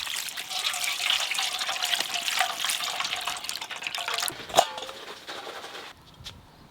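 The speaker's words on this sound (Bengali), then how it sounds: "অল্প একটু জল দিয়ে খেরো কচু ভালো করে ধুয়ে নেব" Taro (kochu) is rinsed with a little water: a continuous splashing trickle with small knocks, close and moderately loud, quieting toward the end.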